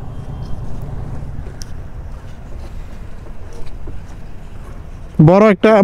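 Steady low engine rumble with wind buffeting a microphone as a boat carrying motorbikes crosses a river; a loud tonal horn-like blare cuts in near the end.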